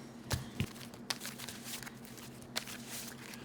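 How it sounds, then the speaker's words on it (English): A deck of trading cards for a card game is shuffled, giving a few faint, crisp riffling bursts spread over a few seconds against a quiet room. "now I'm going to shuffle"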